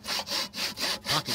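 A small hand saw rasps back and forth through wood in quick, even strokes, about five passes, close and fairly soft.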